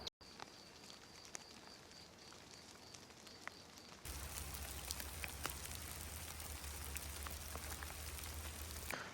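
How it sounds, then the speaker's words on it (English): Rain falls during an alpine hike on the Panorama Trail near Jaun, Switzerland, as a thunderstorm approaches: soft, scattered patter at first, then a sudden louder, denser hiss of rain with a low rumble beneath, no voices. "I do feel like it is raining now"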